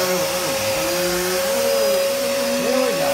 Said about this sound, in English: And now, one boy is gonna start hoovering.